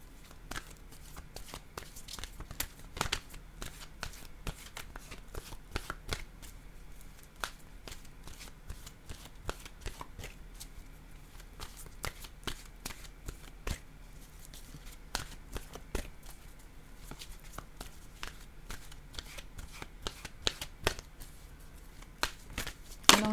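A deck of cards is shuffled over and over, close and fairly quiet, with rapid flurries of riffling clicks and snaps that come in irregular bursts over about twenty seconds, with no one speaking.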